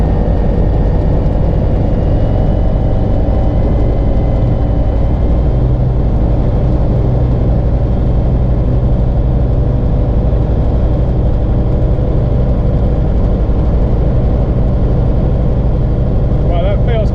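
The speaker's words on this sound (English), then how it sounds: "Park brake is on, so I'm just going to increase the revs now." A Foxbat light aircraft's propeller engine, with a three-blade ground-adjustable Kiev propeller, roars loudly and continuously at high revs on the ground, a dense droning rumble with steady mechanical vibration throughout.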